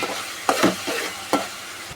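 Onion, tomato and salt are stirred in a hot pan, giving a faint sizzle under a few quick scraping strokes of a spoon, close by and with no voices.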